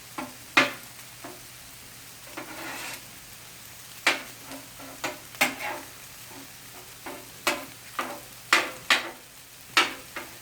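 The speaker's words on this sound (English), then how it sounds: "You want to be constantly turning your rice and flipping it and stuff like that." Chicken fried rice being stir-fried in a pan, with a quiet steady sizzle beneath repeated scraping and tossing strokes of a spatula, irregular metallic clacks coming faster toward the end, with no talking.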